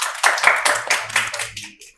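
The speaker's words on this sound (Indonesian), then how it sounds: "Mungkin tepuk tangannya lagi dong buat teman-teman." A small audience at an Indonesian talk show claps briefly, a few scattered hands tapping unevenly for a couple of seconds before fading out.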